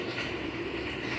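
A train rolling past in a video game, a steady dense rumble with a sustained wheel-and-carriage roar, fairly loud and unbroken for about a second.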